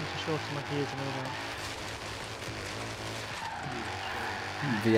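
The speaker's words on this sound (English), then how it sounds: "V8 sounds fucking sick." V8 car engine in the Forza Horizon 3 racing game during drifting, its revving roar mixed with tire squeal and skidding at a steady, fairly quiet level, with talk over it.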